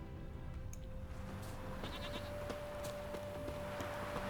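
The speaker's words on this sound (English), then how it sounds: "Get inside with your goats." Goats bleat in The Witcher 3: Wild Hunt, several short wavering calls repeating over a steady in-game ambient bed, fairly close and moderately loud with no talk.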